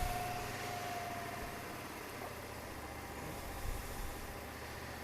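A motorcycle running at idle after an oil change, a steady low mechanical drone heard close by throughout, fairly quiet with no voices.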